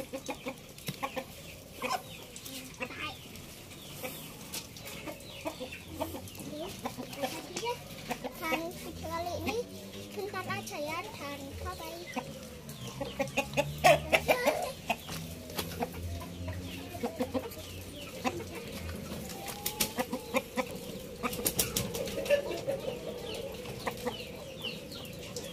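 Indio Gigante chickens cluck and call repeatedly around a farm pen, moderately close, with a voice and other talk heard intermittently underneath.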